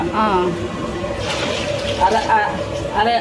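Water pours steadily into a pot with a continuous splashing rush, while a person talks over it.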